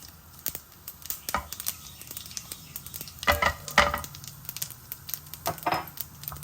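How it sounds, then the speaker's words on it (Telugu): Mustard seeds and cumin spluttering in hot oil for a cabbage and egg fry, giving a steady sizzle broken by sharp crackling pops that come in small bursts, close and fairly quiet, with no talk. "ఇదిగో ఆవాలు చిట్పట్టమంటున్నాయి కదా, ఇప్పుడు జీలకర్ర వేస్తున్నాం."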